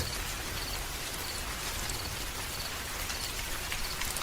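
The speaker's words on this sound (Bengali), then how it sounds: "পথে যে বৃষ্টিতে পড়লাম" Steady rain falling in an animated ghost story, a dense continuous patter with no voices, holding an even loudness throughout.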